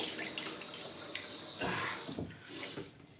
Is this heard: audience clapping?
no